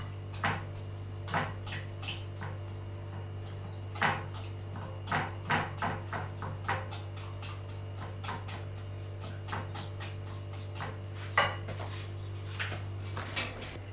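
Pan handled on a kitchen stove while heating: scattered light knocks, clicks and metallic taps over a steady low hum, close and fairly quiet, no talk.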